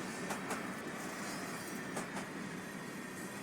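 A freight train of gondola cars rolls steadily past in Train Simulator 2021, a continuous rumble of wheels with faint rhythmic clicks over the rail joints.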